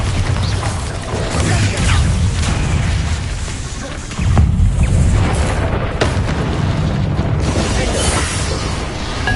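Bombarda blasting spell from Hogwarts Legacy, a dense roaring wash of explosive booms and crackling debris, loud and continuous with a fresh surge midway.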